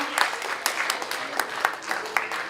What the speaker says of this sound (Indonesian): Tepuk tangan dong teman-teman untuk Cijuta.